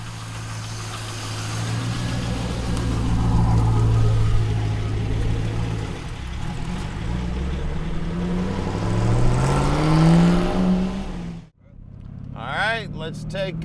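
Engine and exhaust of a 2002 Chevrolet Camaro 35th Anniversary with six-speed rumble loudly, rising and falling through acceleration and gear changes, then cutting out abruptly; someone talks over it.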